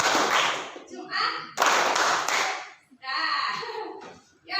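Hand clapping along with Indonesian day names: sharp claps come in clustered bursts, mixed with a spoken voice, fairly loud and close.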